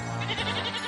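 A goat bleats once in a short, wavering, tonal cry, heard close and clear with no talk.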